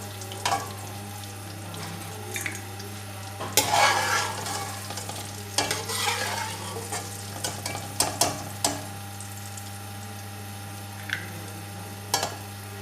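Dry fruits roasting in ghee in a pan, a soft crackling sizzle with intermittent scraping and stirring clatters from a spoon, close and fairly quiet over a steady low hum, no speech.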